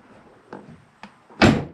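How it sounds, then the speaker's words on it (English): A couple of faint clicks are followed by a solid, muffled slam of a 1968 Corvette big-block's door shutting close by. "Doors both closed nice."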